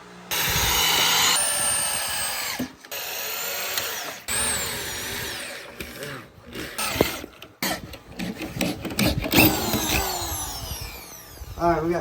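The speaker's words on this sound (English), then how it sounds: "Alright, we got the holes drilled." Power drill boring mounting holes for a radiator kit on a 2010 Honda Rancher 420 ATV, in repeated loud high-pitched bursts that rise and fall, with scraping and rubbing between them and a voice speaking at times.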